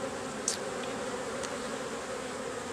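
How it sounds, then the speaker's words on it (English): A dense, steady buzz of many honey bees from an open hive during a September inspection fills the air, close and continuous, with a few individual insects flying past. "We got a lot of young bees, and we also do got a lot of worker bees, forager bees in here too."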